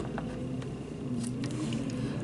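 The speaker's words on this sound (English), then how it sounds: "there's a big truck, a huge one, going past our house for some reason, and it's pretty loud" A big, heavy truck driving past a house outside, a steady low engine rumble that holds loud for the whole stretch, with a few faint clicks and small handling sounds nearby.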